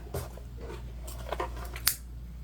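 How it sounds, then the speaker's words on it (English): Scissors trim loose threads and frayed binding on a freshly sewn fabric waist pack, a few soft, quiet snips close up in a still room. "we're just going to trim off any thread"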